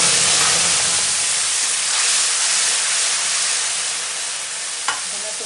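Ginger and tomato paste hit hot oil already tempered with cumin seeds and green chili, for a Bengali tengra fish and eggplant curry. A loud, steady sizzle runs throughout, with a single brief clink near the end.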